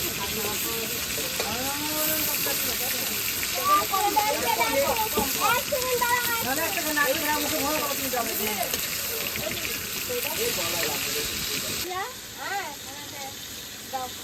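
Bata fish sizzling in hot oil, a constant crackling hiss that holds throughout and stays close and fairly loud while a person talks over it.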